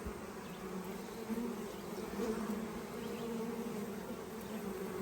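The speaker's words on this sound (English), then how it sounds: "Look how beautiful these bees are." Honeybees from newly installed package colonies buzz around a beehive, a dense, steady hum of many wings, fairly close and continuous, with no talking.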